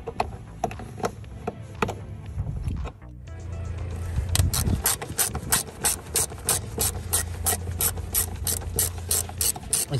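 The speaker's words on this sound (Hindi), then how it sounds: "ये मैंने बिट लगा लिया, रैचेट तैयार कर लिया है।" A hand ratchet fitted with a star bit works the exterior mirror screws on a Skoda Fabia, giving a rapid, close series of crisp clicks in regular bursts after a brief pause, with no talking.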